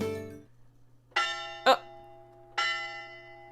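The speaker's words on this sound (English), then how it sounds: "We arrive at the University of Edgewater campus just as the bell in the clock tower strikes 10" A clock tower bell on a university campus in a video game strikes in clear, ringing tolls, three resonant chimes with a sharper knock between the first two, over a low steady hum.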